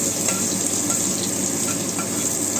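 Spices and dried red chillies fry in hot oil for a beetroot dish, a steady close sizzle and crackle with a faint stirring scrape and no voices.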